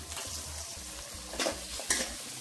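Kothu parotta ingredients, chicken and onions, being stirred and fried in a pan give a steady close sizzle with a couple of sharper scraping strokes of the spatula against the metal.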